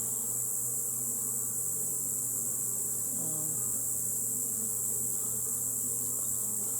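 Steady, even buzzing of many bees at a hive fills the background, a soft continuous hum with no voices.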